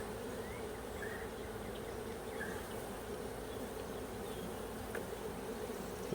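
A dense, steady drone of Russian honey bees buzzes around an open hive from a swarm, with a few individual bees whining past now and then, continuous and fairly quiet.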